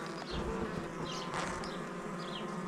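Honeybees buzzing steadily across the frames of an open hive, a dense continuous hum at close range with a few individual bees whining past, no talking.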